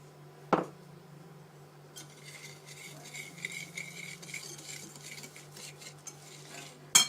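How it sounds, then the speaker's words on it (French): A utensil stirs egg and sugar in a bowl with a soft, continuous scraping and tapping rhythm, quiet and close, with a sharp clink at the start and again at the end. "je commence par bien mélanger mon œuf"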